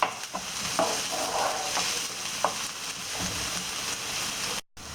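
Chopped onion fries in a pan with a constant crackling sizzle, broken by a few clinking scrapes as it is stirred, then cutting off abruptly near the end.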